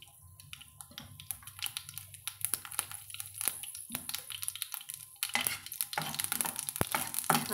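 Mustard seeds and fenugreek seeds splutter in hot oil while making a bitter gourd and shallot tamarind curry, giving dense, irregular crackles and pops that grow busier and louder toward the end, with no one talking.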